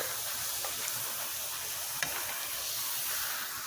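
A tortilla heating in a pan on the stove gives a soft, steady sizzle and hiss throughout, with one faint click partway through.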